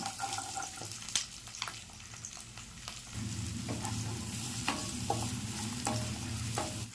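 Green chillies and onions frying in oil in a kadai, a continuous crackling sizzle that grows denser midway, with stirring scrapes and a few sharp clinks; no talking.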